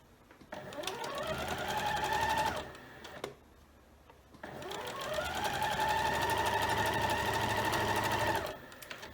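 A sewing machine stitches quilt rows together with a quarter-inch seam, humming in two long steady runs separated by a short pause, loud and close.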